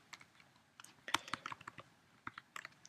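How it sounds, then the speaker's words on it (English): Typing on a computer keyboard, a quiet, irregular run of light key clicks and taps, with a denser burst in the middle and no talk. "You can probably hear my typing."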